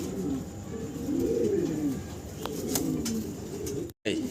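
Young Lahore fancy pigeons cooing nearby in a low, rolling, repeated call over a faint background hum, with a brief dropout near the end.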